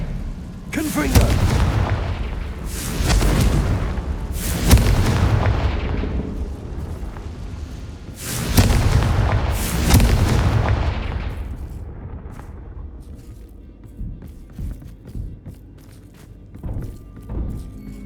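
Repeated spell explosions from the video game Hogwarts Legacy, booming in loud bursts around 1 and 4 seconds and again near 8.5 and 10 seconds, mixed with game effects and shouted incantations, then fading out.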